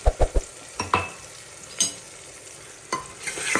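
Spices roasting in a hot pan with turmeric, asafoetida, garam masala, red chilli, coriander-cumin powder and salt, giving a steady close sizzle broken by a few sharp stirring scrapes and clinks of a spoon on the pan.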